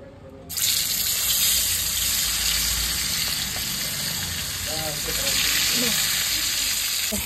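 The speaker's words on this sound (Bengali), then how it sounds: "লেগ পিসটি সুন্দর করে ভাজা লাইছি" Chicken leg pieces seasoned with salt and turmeric frying in oil on a clay stove, a loud, steady close sizzle that starts abruptly and continues throughout, with a faint voice briefly in the background.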